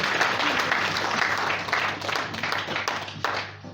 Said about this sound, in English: A big clap for the church.